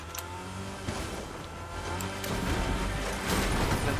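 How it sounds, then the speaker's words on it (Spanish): Car engine in the Fortnite video game drives and revs steadily, rising in pitch and loudness toward the end, mixed with in-game clatter and no talking. "Carro"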